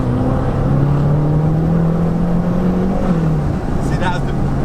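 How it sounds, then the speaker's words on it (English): A 700 bhp BMW M6 engine drones under load as it shifts gears on the road, its pitch rising steadily and then dropping, with a brief bang between shifts and a driver talking over it. "it kind of bangs between gears."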